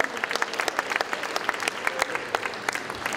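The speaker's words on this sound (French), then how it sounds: "Yves Test, on l'applaudit, c'est le chef du sponsoring." An audience at a rugby league tribute event for Félix Bergèze claps steadily, a dense, even applause from a large crowd filling the whole stretch without pause.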